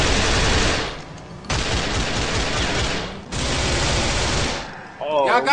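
Automatic gunfire in the video game GTA 5 comes in three long, loud, sustained bursts separated by short pauses. A voice breaks in at the very end.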